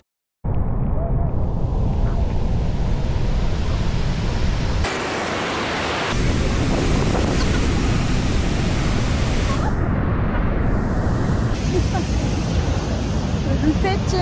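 Loud, continuous roaring rush of Victoria Falls, broadband and unbroken, with shifts in tone as if heard through gusts of heavy spray and mist.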